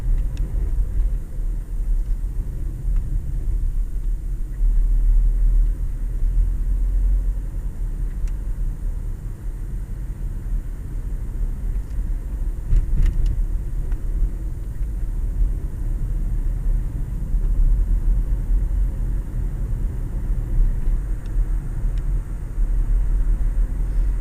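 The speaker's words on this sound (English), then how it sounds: "driving at night time just on a dual carriageway road" A car drives at night along a well-lit dual carriageway, recorded from inside the vehicle as a constant low road and engine rumble with steady tyre noise and no talk.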